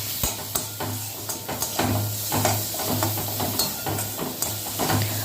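Ground coriander and cumin frying and being stirred in a pan for masoor dal with ridge gourd, a continuous sizzle broken by repeated spatula scrapes and taps at an even pace, no talk.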